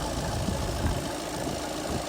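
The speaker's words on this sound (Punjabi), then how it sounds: "ਇਹ ਉਹੀ ਇੰਜਨ ਆ ਇਹ ਜਿਹੜਾ ਤੁਹਾਨੂੰ ਪਹਿਲਾਂ ਦਿਖਾਇਆ" A steady engine idles through a condition check, a continuous even rumble with no breaks or revving.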